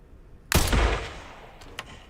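Gunfire in a zombie-fighting video game gives one close, sharp report that rings briefly, followed by a couple of faint clicks.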